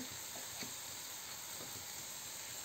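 Spices dropped into hot oil with fresh coriander for an aloo bhindi sabzi give a close, continuous hiss and sizzle, with a few faint crackles and light stirring scrapes.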